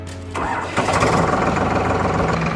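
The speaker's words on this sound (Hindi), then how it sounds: "उसके बाद आप ट्रैक्टर को चालू कीजिए।" A tractor engine cranks briefly, catches and starts, then settles into a loud, steady mid-pitched idle running close by, with no voices.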